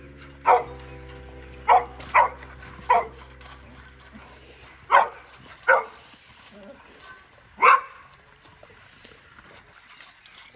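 Several dogs bark sharply at feeding time at irregular intervals, with a few yips and a faint whimper against a quiet room.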